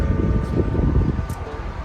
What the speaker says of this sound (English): The wind is gusting real bad